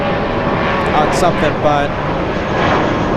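Loud airplane at LAX in Los Angeles, a broad steady engine roar filling the whole clip while people talk over it.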